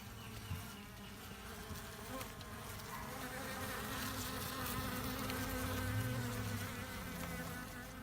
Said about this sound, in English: I just received my Italian bee package